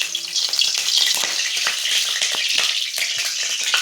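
Eggplant slices fry in hot ghee with a steady, close crackling sizzle and scattered small pops, continuous throughout.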